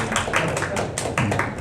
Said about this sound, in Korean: 여러분 우리 박수로 좀 환영해 주시면 감사하겠습니다